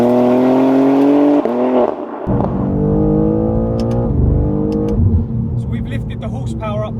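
A tuned BMW G87 M2 engine, boosted to about 570 horsepower, revs and drones loudly up close, its pitch climbing and dropping through gear changes, with a voice talking over it.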